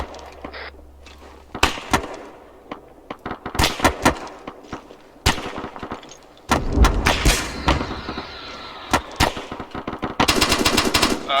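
Gunfire in the military shooter Arma 3 comes in loud rapid bursts and single cracks, some close and sharp and others more distant, with brief lulls between volleys.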